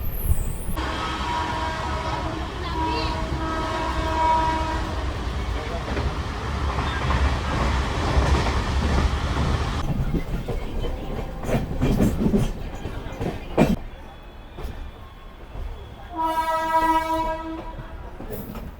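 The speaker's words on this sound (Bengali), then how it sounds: "আমাদের ট্রেন ঢুকছে ব্যান্ডেল জংশন রেলওয়ে স্টেশনে" The 13063 Balurghat Express rumbles and clatters as it pulls into Bandel Junction, with drawn-out horn blasts early and again near the end, and the steady rolling noise easing as the train slows.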